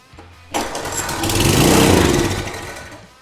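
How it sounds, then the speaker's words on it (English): A junk wood splitter's small engine fires on ether and runs briefly, an abrupt start followed by a loud, close rough chugging that swells and then fades out within a few seconds, with no talking. "I give it a squirt of ether, it fires, it runs for a second."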